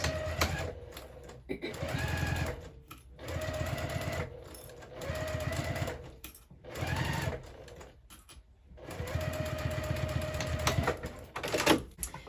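A sewing machine stitches a narrow 1/8-inch seam on a fabric gift card holder stocking stuffer, running in several steady bursts separated by short pauses, with faint talk in between.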